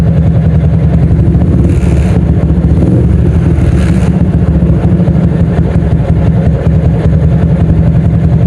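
A 2007 OJMX motorcycle engine idles after a tune-up, with a loud, steady, close-up rumble and a fast, even throbbing pulse that holds throughout, and no voices.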